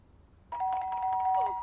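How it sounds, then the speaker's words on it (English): A doorbell rings once inside the video game Fragments of Him, a bright two-tone electronic chime that starts abruptly and rings out clearly over a quiet background. "But the doorbell had gone again."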